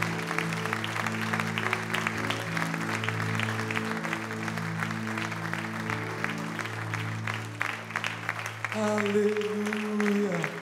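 A congregation at a Portuguese-language worship seminar claps in praise, with quiet, continuous applause layered over sustained keyboard chords and a voice speaking above it.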